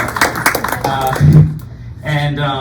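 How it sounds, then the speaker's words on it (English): A town hall audience claps on request, brief bursts of hand claps mixed in with ongoing talk in a hall. "Please clap."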